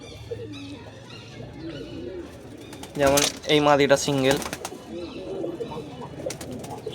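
Pigeons coo in a small caged group at a bird sale, a few rounded cooing calls rising clearly for a moment while someone talks steadily before and after.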